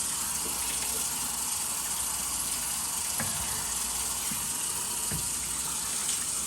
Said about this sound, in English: We're going to leave the water running